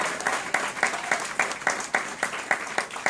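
A church congregation claps together in a lively rhythmic applause, regular loud bursts of clapping repeating about every quarter second, with a faint murmur of voices underneath.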